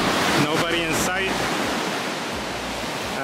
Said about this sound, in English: Big waves, I love it.